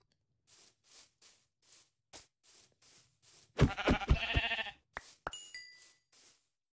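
Blocky sheep in Minecraft survival gameplay giving a short burst of bleats amid a series of soft, regular game clicks and footsteps, close and clear, with a few bright tones afterward.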